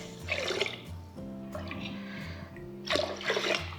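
Glasses of water poured into a clay pot for fermented rice, three splashing gurgling pours close by, separated by short gaps with quieter sounds between them.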